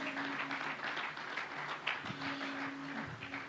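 A church congregation at a Spanish-language worship service gives a fairly faint, steady round of applause to the Lord, with a sustained musical tone and some tapping underneath.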